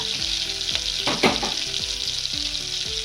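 Dry red chillies fry in hot oil for kara pongal, making a loud, steady sizzle close by, with a brief burst of stirring partway through.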